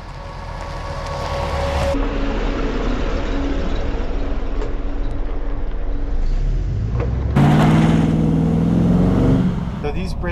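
Naturally aspirated LS3 V8 in a restored, modified Chevy pickup pulls hard under acceleration, a loud steady engine roar that swells as gears change, with a person talking over it.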